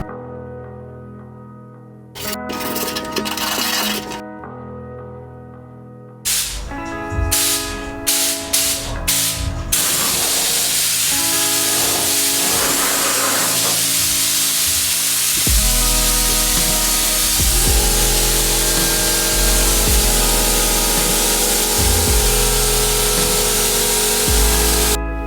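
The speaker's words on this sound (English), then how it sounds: "I moved on to spraying the actual bonnet that we prepped yesterday" Paint is sprayed onto a prepped Datsun 240Z bonnet in a long, loud, steady hiss, preceded by several short stop-start bursts of spraying.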